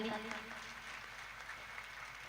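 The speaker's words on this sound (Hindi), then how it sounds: "एक बार हमारे भाई सिद्धार्थ सिन्हा जी के नाम में जोरदार ताली" Audience clapping at a Sinha family community event stage in Rajnandgaon, a short, faint patter of applause that tapers off quickly after a voice at the start.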